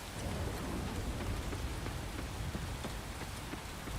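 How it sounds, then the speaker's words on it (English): Rain falls steadily in the farming game Coral Island, a constant close patter with scattered sharper drop hits and a faint low rumble beneath, fairly quiet and without voices. "Why is the rain so loud? It's loud."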